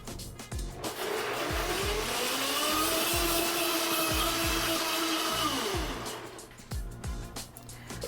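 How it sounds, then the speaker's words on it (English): A food processor blends beans into a batter, its motor running in a steady loud whir that starts and stops, with rhythmic knocking from the blade and bowl throughout. "So now you just keep the processor going, and it'll eventually turn into what looks like a batter"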